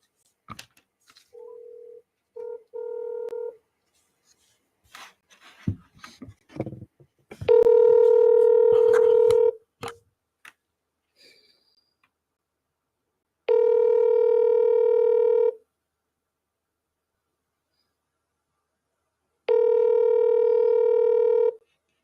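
A mobile phone call goes out with brief beeps and clicks, then a steady ringback tone repeats in long, evenly spaced bursts separated by silence.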